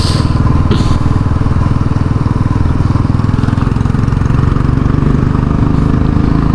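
Royal Enfield Bullet 350 X motorcycle engine running steadily and loud throughout, a continuous thumping drone with no clear revs or breaks and no talk over it.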